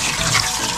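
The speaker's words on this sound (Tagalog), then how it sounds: "Lagyan natin tubig." Water poured into a cooking pot with garlic and ginger, a steady close splashing gush that runs unbroken for under a second with no talk.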